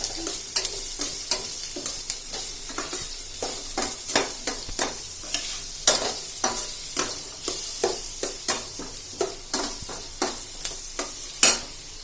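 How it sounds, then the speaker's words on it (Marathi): Onion frying with a little salt in hot oil gives a steady sizzle, punctuated by rhythmic, close scraping strokes as it is stirred repeatedly, with no voices. "थोडंसं मीठ टाकायचं आहे कांदा लवकर फ्राय होण्यासाठी"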